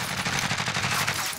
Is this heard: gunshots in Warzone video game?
yes